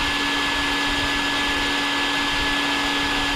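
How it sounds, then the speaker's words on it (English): Vacuum cleaner running steadily and loudly inside the cab of a 1992 Chevy C1500 pickup, a constant whining drone with a strong tonal hum and no pauses, heard alone. "Couldn't convince my wife to vacuum this for me."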